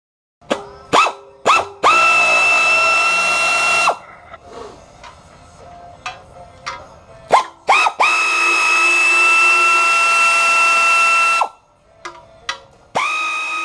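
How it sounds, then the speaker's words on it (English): Power tool backing out 9/16 bolts on the oil deflection pan of a boat engine during a 32-foot Carver engine swap, with short bursts and two long whining runs, close and loud. "Here we start releasing and removing the bolts for the oil deflection pan."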